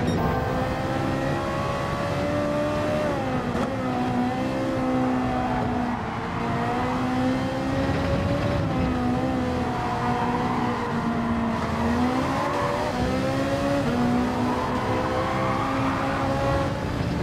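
A race car engine in the Gran Turismo 7 racing game roars continuously at high revs, its pitch rising and falling with gear changes and throttle, loud and close with no talk over it.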